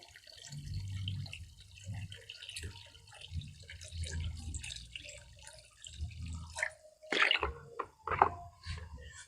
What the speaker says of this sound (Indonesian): Kita penuhi dulu airnya teman-teman.